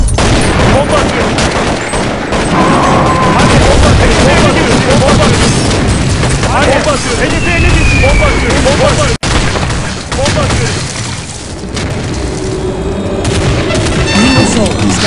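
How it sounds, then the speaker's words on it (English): In Counter-Strike 1.6 zombie escape play on a train map, loud bomb explosions and gunfire crash continuously and densely up close, with shouting voices and game announcer speech mixed in. "Bomba atıyorum."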